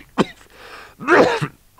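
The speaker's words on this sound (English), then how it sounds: "How long have you had that cough?" Two short, rough coughs with a throat-clearing rasp between them, close up and fairly loud.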